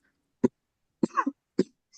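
Several short, sharp coughs, spaced apart, from one person close by in a quiet room.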